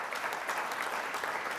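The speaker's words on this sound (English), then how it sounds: "You can applaud for that." Sustained applause from an audience at a college talk, dense steady clapping that fills the whole moment at an even, moderate loudness with no voices over it.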